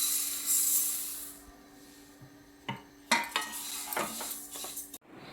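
Flax seeds dry-roasting in a pan, heard as a faint dry hiss broken by several clattering scrapes and stirs of a utensil against the pan.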